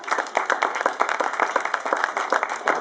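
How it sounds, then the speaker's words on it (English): A small group claps steadily at a stables open day on Wimbledon Common, with dense overlapping handclaps at an even pace, fairly close and without any voices. "these guys certainly need a round of applause"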